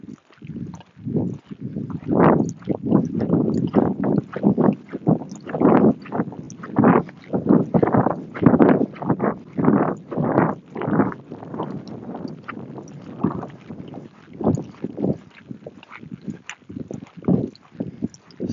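A horse's hooves beat in a steady, rhythmic series of dull thuds as it is ridden around a barrel at a barrel-racing horsemanship session, with some wind noise over the microphone.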